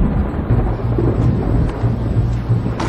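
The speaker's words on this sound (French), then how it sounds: "il y a un orage au-dessus de votre tête" Thunderstorm rumbling overhead near a Québec mine site, a loud continuous low roar with wind buffeting the microphone throughout.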